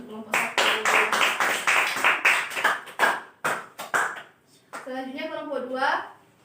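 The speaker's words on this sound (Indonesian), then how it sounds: "Kita beri aplaus untuk kelompok 1." A classroom of students applauds for group 1, rhythmic bursts of clapping from many hands, fairly close, ending with a teacher's voice speaking over a quieter room.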